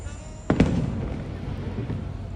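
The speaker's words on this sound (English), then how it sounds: "Fireworks from my room. Oh yeah, pretty nice." Distant fireworks at Epcot heard from a resort room at night, two sharp close-spaced bangs followed by a rolling rumbling echo against quiet background.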